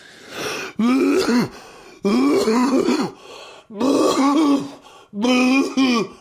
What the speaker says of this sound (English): maybe that started out as a real cough, but it got to a point where it was not even close to real.